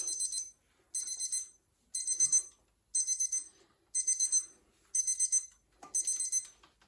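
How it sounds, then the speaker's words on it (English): An electronic kitchen timer buzzer beeps in seven evenly spaced bursts, each a quick rapid chirping pattern, loud and close, with silence between. "let's turn this buzzer off"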